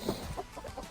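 A rooster in a snowy farmyard gives a few short, soft clucks close by, quick low bursts in an otherwise quiet moment.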